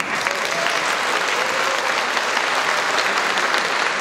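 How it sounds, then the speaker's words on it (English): A concert audience at a school orchestra charity event bursts into dense, continuous applause, many hands clapping evenly and loudly from start to finish with no talk over it. "please give a round of applause"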